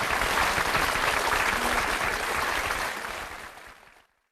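Heavy rain pours down in a dense, steady hiss that sounds much like a crowd clapping, loud and continuous before tapering off and fading to silence at the end.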